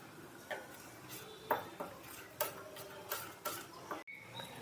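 A spice paste is stirred with lukewarm water, heard as quiet, regular spoon taps and scrapes against a bowl, about one every half second, with a brief pause near the end.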